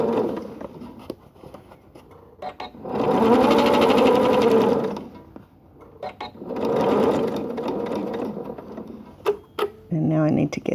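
Sewing machine zigzag-stitching the last side of a quilted-square tote bag, running in two sustained loud bursts separated by a pause, with a voice talking and small handling clicks between runs.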